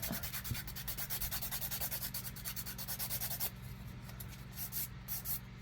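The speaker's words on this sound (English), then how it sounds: "I'm going to use a little bit of the tougher grit because I've got kind of a hump that I need to smooth out right here" Coarse-grit file rubbed back and forth over a fingernail to smooth a hump, faint close-up rasping in quick regular strokes that slow and soften toward the end, with no talking.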